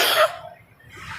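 A single short, loud cough from a man giving an Indonesian religious lecture, bursting at the start and quickly fading into quiet room tone.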